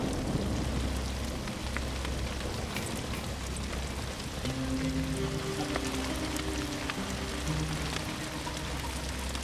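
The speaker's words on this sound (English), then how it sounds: "it's really coming down. That's huge chunks of hail. Thunder's cracking pretty good, lightning." Heavy rain and hail pound down steadily in a wild outdoor storm, a dense constant roar with low thunder rumbling underneath, and no voices.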